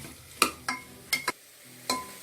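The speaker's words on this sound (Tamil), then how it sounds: "இப்போ இதை நல்லா வதக்கி விட்டுக்கோங்க." Masala with garam masala and chilli powder being sautéed in a pan for millet khichadi, marked by five or six distinct sharp scraping clinks of a spoon against the pan over a faint background hiss, no talk.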